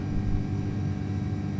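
Steady, even airliner engine drone in Microsoft Flight Simulator 2024 during cruise, a dense low rumble heard alone without any change over the moment.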